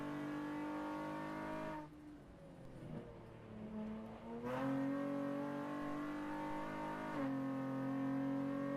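A car engine in a video game revs high and holds a strained, steady whine, dips briefly and then climbs back to a sustained high pitch, with a short shift near the end.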